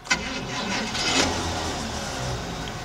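Van engine cranking with a failing starter motor, giving a brief knock followed by a harsh, steady grinding whir that runs for a few seconds at moderate volume, close by.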